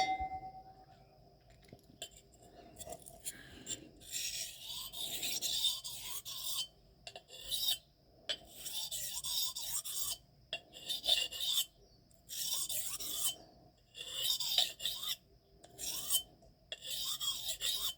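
Knife blades of M398, Maxamet and MagnaCut steel are sharpened with repeated rasping strokes in bursts of one to two seconds, separated by short pauses, close and fairly quiet, with an occasional light metallic clink.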